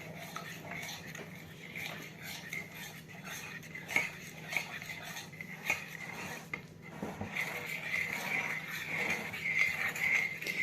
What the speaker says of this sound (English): What we're gonna do is mix it all so it all combines together and this chocolate carries on melting.